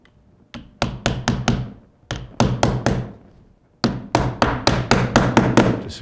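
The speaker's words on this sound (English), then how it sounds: "we're just going to fasten it off with a couple of roofing nails" Roofing nails are hammered in to fasten window flashing: three bursts of sharp, close hammer strikes, about four to seven blows each with short pauses between, ringing clearly with no talk.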